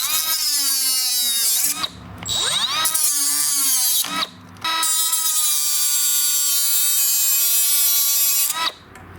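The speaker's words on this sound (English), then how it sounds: "I'll just be using my little grinder here today and cut them right off." A small handheld grinder cuts off metal tabs during a John Deere lawn tractor repair. Its loud, close, high-pitched whine runs steadily, dropping out in a few short pauses.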